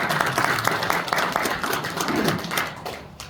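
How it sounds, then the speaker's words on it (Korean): Applause at a church gathering of CBMC members, a fairly close burst of clapping from the congregation that rolls on with uneven claps and slowly thins out toward the end. "우리 큰 박수 드리겠습니다."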